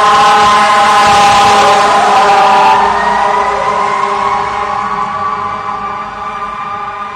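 A fire truck blares its wailing siren on a Hollywood street, loud and close, with rising and falling tones layered over traffic rumble. The siren slowly fades as the truck moves away.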